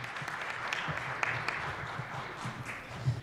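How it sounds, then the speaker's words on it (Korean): Steady applause from an audience at a student youth forum fills the clip, a dense even patter of clapping that holds throughout without any talking. "다시 한번 응원의 박수 부탁드리겠습니다"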